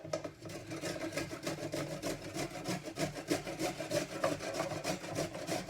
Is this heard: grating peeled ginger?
yes